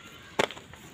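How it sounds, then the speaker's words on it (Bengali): A single sharp, close chop while potatoes are cut at an outdoor picnic, with a faint softer knock just after it and quiet background otherwise. "আলু কাটা দিয়ে দিই"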